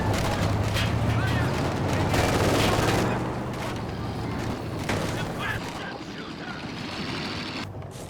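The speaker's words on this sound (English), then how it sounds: "And now we've got a mortar." Mortar and other gunfire rumble across a Company of Heroes 2 battle in a dense, continuous barrage of booms and crackles that is loudest early, then thins slightly, under a speaking voice.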